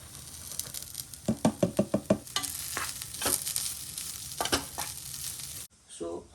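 Chopped onion fries in a pan with a steady sizzle, broken by a quick run of sharp knocks and stirring clatter from a utensil against the pan, then a brief quieter patch at the end.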